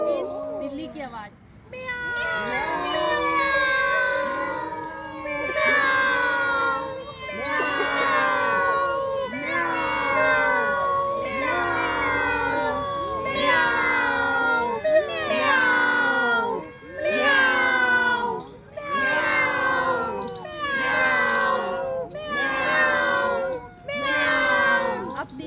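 A person imitates a cat's meow as a thyroid exercise: a series of loud, close, drawn-out meowing calls, roughly one every two seconds, each with a rising and falling pitch, repeated without pause.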